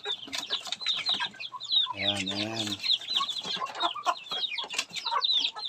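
Backyard chickens beside a house cluck and chirp in a busy, overlapping chorus close by, with one bird giving a longer harmonic call partway through and a person speaking briefly among them.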